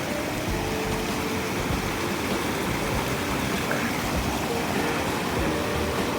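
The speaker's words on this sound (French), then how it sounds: "Bon, on va se remplir de l'eau. L'eau bien fraîche de la cascade." Waterfall stream rushing while a water bottle is filled, a loud, constant broadband wash of falling water with no pauses.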